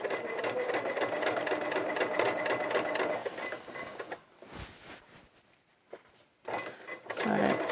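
A sewing machine stitches Eden Coveralls in a fast, rhythmic mechanical chatter for about four seconds, then stops, leaving quiet handling noises, brief clicks and a voice talking nearby.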